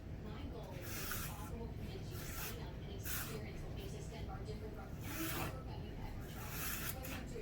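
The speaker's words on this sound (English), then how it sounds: "you can start shredding with this peeler" Squash shredded with a hand peeler, steady rasping strokes repeating close up in a continuous scraping rhythm, with a voice talking over part of it.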